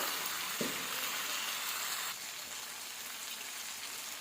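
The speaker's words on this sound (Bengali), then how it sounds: "এবার আমি জল দিয়ে দেবো পরিমাণ মতো।" Spiced vegetable curry sizzles loudly in a hot pan, a steady hiss that drops in intensity partway through as water is added, continuing as a softer bubbling fry with no voices.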